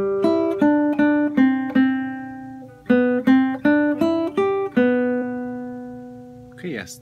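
Acoustic guitar picking a melodic phrase of a song, a sequence of about a dozen clear plucked notes in two groups with ringing sustain, played alone and close.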